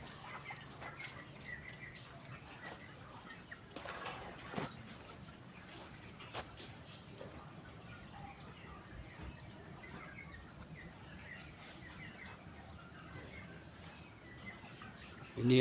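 Chickens on a poultry farm, some of them sick, flutter and cluck outside their coop in a quiet, low-level din of scattered wing flaps and soft calls, with a louder burst near the end.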